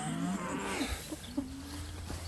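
A herd of cows moos in a rural field, several drawn-out low calls overlapping at moderate distance against steady outdoor background noise.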